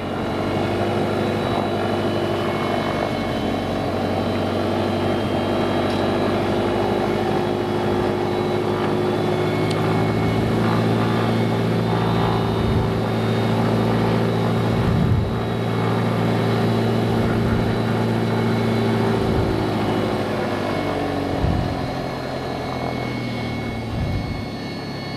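A Mooney M20J piston aircraft engine is run up after a hot start, a loud, steady propeller drone close by whose pitch rises and then settles, continuous throughout with no talking.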